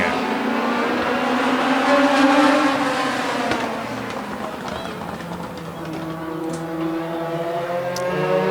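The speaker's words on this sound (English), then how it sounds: "On to turn 4, we are Legends Racing." Legends race cars running a heat race on an oval track, engines roaring and revving as they accelerate past, with the pitch rising and falling over a steady crowd-and-track din and an announcer talking.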